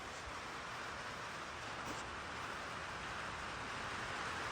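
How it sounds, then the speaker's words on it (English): Heavy rain pours steadily onto a loud tin roof of a building, a dense, constant hiss and drumming with no breaks, heard alone without talk. "it is pouring down rain outside right now"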